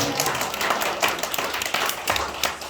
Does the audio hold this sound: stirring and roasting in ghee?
no